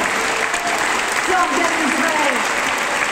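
A big crowd at a Paris presidential campaign rally applauds hospital workers, steady, loud clapping filling the hall while a voice briefly rises over it.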